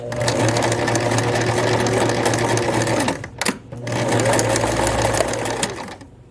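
A sewing machine runs steadily while stitching a seam, stops briefly, then whirs again for a short back stitch; close, loud and mechanical, with no talking.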